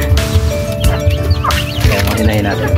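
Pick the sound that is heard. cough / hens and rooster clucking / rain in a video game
hens and rooster clucking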